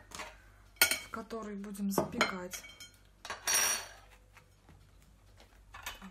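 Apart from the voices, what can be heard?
sliced eggplant placed into a baking dish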